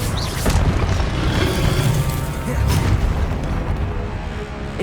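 The Confringo explosion spell in Hogwarts Legacy goes off as a dense, loud blast of booming and crashing, with a second surge of rumble midway. The roar carries on close and continuous.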